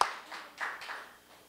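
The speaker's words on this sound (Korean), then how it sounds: "박수 한번 쳐요" A church congregation breaks into a brief burst of hand clapping, a few quick claps fading within about a second.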